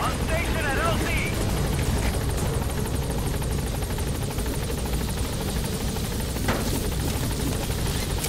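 A helicopter arriving at a landing zone in the video game Metal Gear Solid V, a loud continuous rotor thrum and engine whine with a voice speaking over it.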